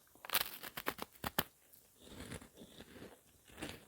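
Close, crisp bites and crunching of a Banana Kick corn puff snack, a quick burst of sharp crunches early on followed by softer, steady chewing.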